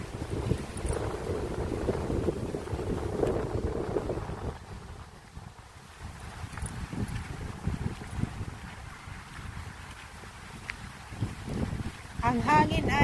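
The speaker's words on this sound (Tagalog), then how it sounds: "Malakas ang hangin kaya." Gusty autumn wind buffets the microphone with a rumbling roar, while voices talk intermittently over it.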